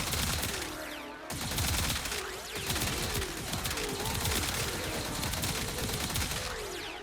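The Tenet Tetra rifle in the Warframe video game fires in rapid sustained bursts, a dense, loud stream of shots with only a brief pause, mixed with whirring, warbling weapon effects.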